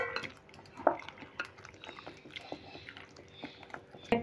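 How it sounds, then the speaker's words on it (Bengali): Batter thinned with water being stirred with a ladle in a bowl for Bengali gola ruti, giving soft, irregular scraping and clinking taps, fairly quiet and close, with no talking. "এবার আমি জল দিয়ে আরেকটু পাতলা করে নেব"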